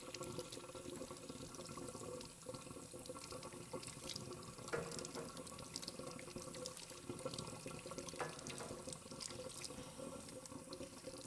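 Running tap water pours steadily into a sink while a crab is washed, a continuous close splashing flow with small irregular clatters from handling, no voices.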